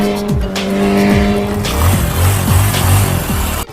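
A car pulls away on a village road with its tires squealing, engine revving in rising sweeps through several gear-like pulls, loud and close, with no talking.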